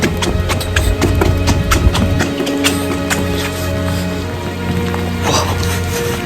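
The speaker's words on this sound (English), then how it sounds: "it's raining" Rain falls steadily and close by during filming outdoors, a dense, loud patter of drops with scattered sharper taps throughout, and no voices.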